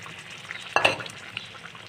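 Boiled mung dal added to a pan of frying rohu fish head, a sharp splash and sizzle burst partway through, then quieter stirring and crackle; no talking.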